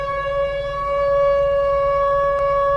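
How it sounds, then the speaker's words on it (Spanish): A factory whistle siren sounds loud and steady, one sustained tonal wail that swells slightly and holds without a break, heard alone. "tenían sirenas que sonaban en horarios perfectamente conocidos, como llamando a su personal a cumplir la tarea diaria"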